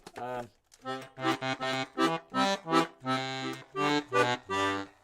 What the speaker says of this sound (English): If the accordion sounds like this,